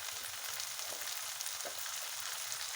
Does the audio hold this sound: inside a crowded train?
no